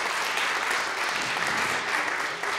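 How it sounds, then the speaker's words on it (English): Audience applause at a nursing association event at Queen's Park in Ontario, a steady dense clapping that fills the whole stretch at an even level with no voices on top. "Give yourselves a round of applause"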